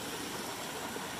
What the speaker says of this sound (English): along this gorgeous little waterfall sitting outside of my camp